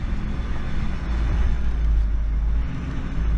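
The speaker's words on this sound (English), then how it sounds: "let's just appreciate the fact that the truck's straight piped now" A Ford F-350 pickup with a 6.0 diesel and straight-piped exhaust drives along, its deep exhaust rumble droning steadily and swelling slightly, heard from inside the cab with no talking.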